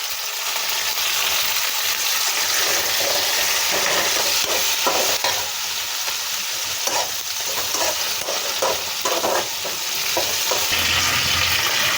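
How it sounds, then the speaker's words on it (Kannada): Soaked Byadgi chillies tipped into a hot frying pan while cooking chicken bassaaru, giving a loud, continuous sizzle with scraping stirring noises throughout and no voices. "2 ಬ್ಯಾಡಗೆ ಮೆಣಸಿನ್ಕಾಯಿ ನಾನು ನೀರಲ್ಲಿ ನೆನೆಸಿಟ್ಟಿದ್ದೆ,"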